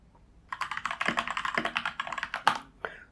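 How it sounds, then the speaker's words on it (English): Rapid keystrokes clatter on a computer keyboard as a short terminal command is typed, a quick burst of close clicks ending in a firmer final key press. "So if I type ls right now"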